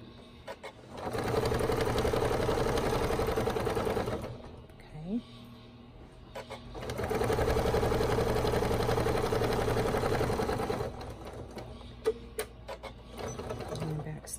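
A sewing machine stitching fabric in a circle for a DIY car seat poncho, running slowly in two long steady runs separated by a pause, with a person talking now and then.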